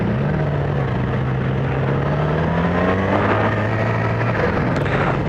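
A Yamaha YZF-R6 sport motorcycle engine hums loud and continuous on a demo ride, its pitch holding steady and then rising slightly before settling, with road and wind noise filling the background.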